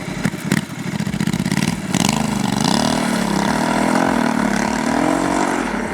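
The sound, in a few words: Honda Africa Twin 1100 twin-cylinder motorcycle engine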